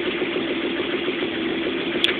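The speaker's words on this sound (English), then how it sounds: "It's actually idling a lot better this time around." A Toyota MR2 with a 1ZZ engine, coil-on-plug ignition and aftermarket EFI idles steadily with a constant low rumble and hum, close by and uninterrupted, with one small click near the end.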